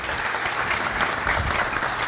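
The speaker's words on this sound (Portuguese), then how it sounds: "Vamos dar uma salva de palmas pra ele," An audience in a classroom applauding a student, a dense burst of clapping from many hands at close range, steady and loud for a couple of seconds with no voices over it.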